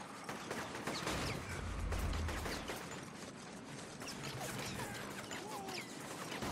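Gunfire from the inFAMOUS video game, a dense fusillade of distant shots and crashes with a heavy low burst early on, continuing under the game's ambient noise.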